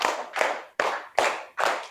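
A classroom of pupils claps in unison during a primary school teaching practice session, five sharp group claps at an irregular beat, each a loud broadband burst with a short decay, no voices heard.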